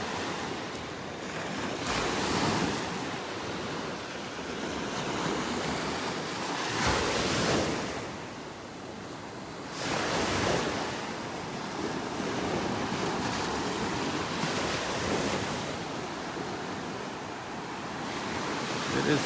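Ocean surf rolls onto a beach in North Naples, Florida, with waves breaking in steady, roaring surges every few seconds, mixed with gusty wind buffeting the microphone.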